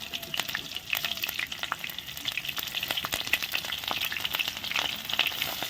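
Cumin, cardamom and green chili sizzle and crackle in hot oil in a kadai, with dense spitting pops over a steady close frying hiss and no voice.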